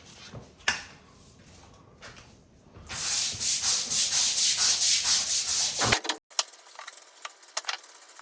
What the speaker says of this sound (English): So I'll start scrubbing this.